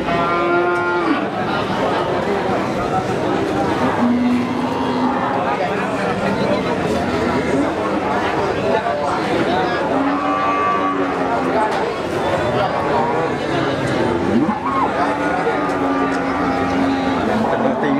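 Pegon cattle at a busy livestock market in Pati, Central Java, lowing repeatedly at close range over a dense murmur of crowd chatter, with people talking nearby throughout.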